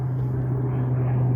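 An airplane flies overhead, giving a steady, loud droning hum that holds even throughout the short moment.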